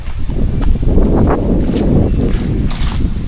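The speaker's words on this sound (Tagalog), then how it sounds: "Marangkada na naman yung hangin" Strong wind gusts blowing steadily outdoors, a loud continuous low rumble of air buffeting the microphone, with faint rustling and scattered bursts across a few seconds.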